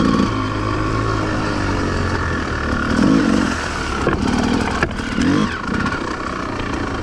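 An enduro motorcycle rides along a muddy trail, its engine droning steadily close by and revving up in surges, with no talk over it.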